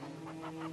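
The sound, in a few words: chickens clucking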